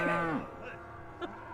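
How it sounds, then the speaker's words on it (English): A cow lows with a drawn-out, harmonic moo at the start, followed by a quieter second call from farther off against faint outdoor background. "Those are cows."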